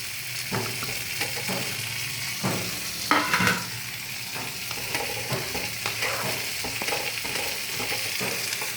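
Pre-fried paneer cubes cooking in a pan for yakhni paneer, a dense continuous sizzle with frequent light utensil taps and scrapes against the pan, fairly loud and close.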